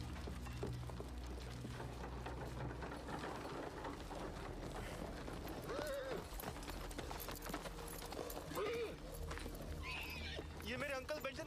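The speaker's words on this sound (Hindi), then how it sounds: "ये मेरे अंकल बेंटन का घोड़ा है।" Horse neighs and hoof clip-clops in a Game of Thrones scene, a couple of whinnies standing out over a steady clatter of hooves mixed with speech and background score.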